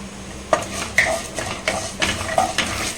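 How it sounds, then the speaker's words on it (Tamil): Chana dal and urad dal are sautéed in a metal pan, a ladle scraping and clinking against it in a loose rhythm of about six strokes over a faint sizzle, close and without speech. "கடலைப்பருப்பு உளுத்தம்பருப்பு நல்லா வந்து வதங்கட்டும்"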